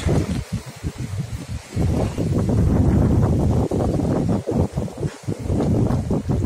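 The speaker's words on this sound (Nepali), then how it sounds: "यस्तो डेन्जर हावा चल्दा छ हावाहुरी बतासेन" Dangerous gale-force wind batters a village, a heavy, rumbling roar that surges and dips in uneven gusts, close and loud, with brief pauses and no voices.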